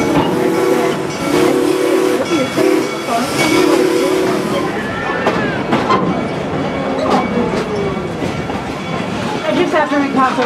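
Busch Gardens Serengeti Express train running through the park, a near steady rumble with hissing and repeated whistle-like tones early on, continuing under a voice talking.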